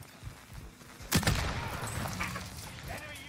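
Gunfire in the zombie survival game Project Zomboid: a sharp shot bursts out about a second in and leaves a rumbling tail. Voices talk faintly underneath at moderate level.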